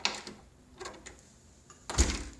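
A Schlage keypad door lock as the door shuts, a few close clicks and thuds of the door and latch, ending in a firmer clunk.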